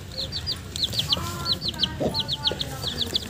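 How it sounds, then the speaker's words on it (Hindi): A hen clucks softly in a Punjab village yard, short repeated clucks over faint background noise, while sharp high chirps from chicks or small birds recur throughout. "तो ये एक मुर्गी है इसके सिर्फ दो ही बच्चे हैं।"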